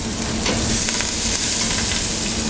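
Chopped onions sizzling and frying in hot oil with curry leaves, a steady dense crackle that holds loud and close throughout, with faint stirring scrapes mixed in.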